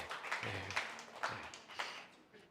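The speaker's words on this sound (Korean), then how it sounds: "우리 잘 고쳐주신 주님께 감사의 박수로 올려드립니다" A church congregation gives a burst of thankful applause during a sermon, a brief, fairly quiet patter of many hands with a faint voice mixed in.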